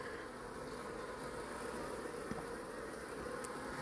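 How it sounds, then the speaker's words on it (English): A steady, continuous buzzing drone of many bees, close by and unbroken, with no voices over it. "What are these bees doing?"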